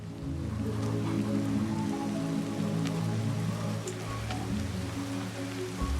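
Rain falls steadily in the prehistoric survival game Ancestors: The Humankind Odyssey, a continuous close hiss of drops layered over sustained low musical tones for the whole stretch.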